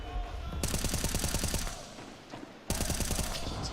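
Automatic M4A4 rifle fire in Counter-Strike during a Navi versus FaZe Clan final, with two close, loud rapid bursts of evenly spaced shots separated by a brief lull.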